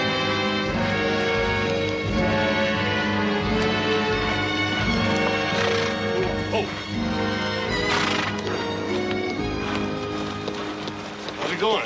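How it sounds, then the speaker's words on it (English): Horses on a Western frontier trail snort and whinny with steady clip-clop hoofbeats, loud and close, under a full music score with people talking over it. "I think these horses would feel a lot better if we let them run free."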